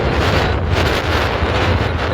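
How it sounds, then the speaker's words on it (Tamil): Strong wind buffets the microphone on a 2 km hill road during a cycling challenge, a loud continuous roaring rumble with no talk. "காற்று ரொம்ப ஃபோர்ஸ் அடிக்குது"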